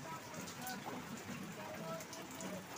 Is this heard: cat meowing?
no